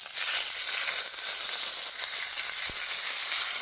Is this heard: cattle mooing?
no